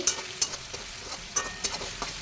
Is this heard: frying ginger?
yes